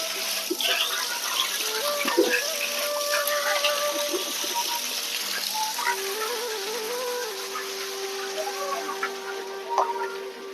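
Water runs steadily from a gaumukhi spout into a temple tank at a Mahadev shrine, a continuous splashing flow with faint voices and tones in the background.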